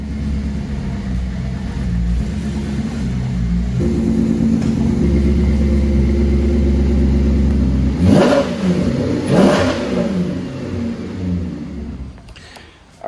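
A Maserati car engine rumbles close and steady as it drives in, swelling with a couple of revs before settling and cutting off near the end.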